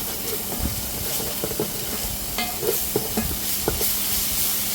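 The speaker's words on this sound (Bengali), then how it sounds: "এখন একটু ভালো করে কষে যাক।" Whole spices with onion, garlic, ginger and ground spices sautéing in a pan, a steady hissing sizzle broken by scattered stirring scrapes and taps, close with no voices.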